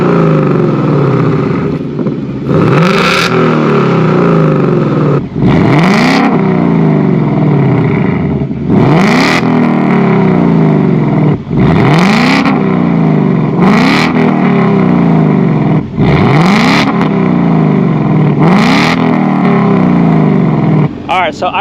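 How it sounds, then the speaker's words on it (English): A car with an active exhaust and an H-pipe revs loudly, with repeated sharp throttle blips that rise and fall about every two seconds over a constant loud idle rumble, recorded up close. "to kind of give you guys an idea on how it would sound with an H-pipe"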